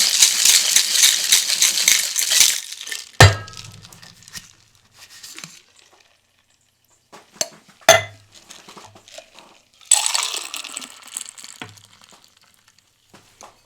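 Cocktail shaker packed with ice shaken for a Mai Tai, a loud burst of dense rattling at first, then scattered clinks and knocks, with a second shorter shaking burst near the end.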